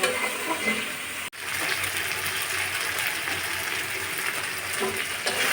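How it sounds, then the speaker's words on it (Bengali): Potatoes sauté with whole spices in a hot pan, giving a steady, close sizzle that carries on throughout with only a brief break. "ভালো করে মশলা দিয়ে আলুগুলো কষিয়ে নিচ্ছি"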